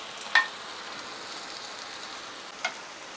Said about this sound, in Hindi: 2 मिनट एक तरफ पहले फ्राई करेंगे